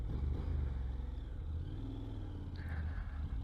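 A Honda NC 750X motorcycle engine running steadily while riding, a low continuous rumble with road and wind noise, recorded close from the rider's position with no talking.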